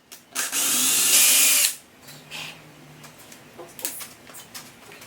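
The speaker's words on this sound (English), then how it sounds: "I'm using a 5/16 bit to drill larger holes where we already have our pilot holes" A power drill with a 5/16 inch bit bores into a wooden herringbone tabletop through existing pilot holes, a loud sustained whine lasting over a second followed by quieter tool handling and faint clatter.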